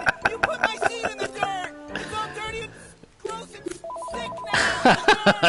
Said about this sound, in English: don't you answer that phone!